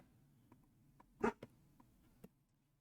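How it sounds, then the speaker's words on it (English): A dog gives a few short, muffled barks and whimpers from somewhere nearby, upset as garbage is taken away, with one louder yelp standing out in an otherwise quiet room. "Can you hear my dog? She is upset that the garbage is being taken away"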